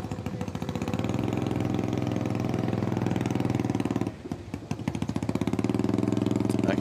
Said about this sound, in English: I can hear an exhaust in my ear right now that sounds like it's got no muffler.